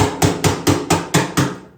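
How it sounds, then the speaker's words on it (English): A brass hammer taps a chisel against the locking ring of a fuel tank, seven sharp metallic strikes in an even rhythm, close and fairly loud, with no voices. "you take your trusty brass hammer and a chisel, and you tap this thing lightly"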